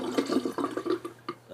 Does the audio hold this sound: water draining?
yes